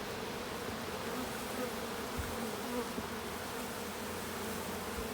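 Honey bees confined in a container during a varroa mite test buzz in a dense, continuous drone, fairly faint and close, with no talk over it.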